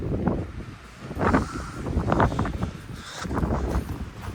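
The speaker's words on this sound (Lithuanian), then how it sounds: "Praėjo porą valandų, vėjas vėl didelis." Strong wind buffets and roars in uneven gusts, rising and falling throughout with a rough, rushing texture.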